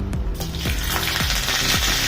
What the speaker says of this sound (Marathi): एक चमचा मी तेल सोडले आणि त्यामध्ये हे कढीपत्ता सोडते